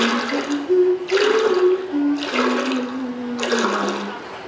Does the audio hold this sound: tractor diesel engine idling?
no